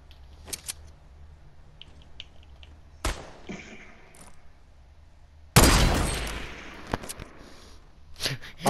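In Fortnite, a sniper rifle goes off in a few sharp, isolated cracks spread across several seconds, one much louder blast followed by a decaying tail, with quieter game clicks between.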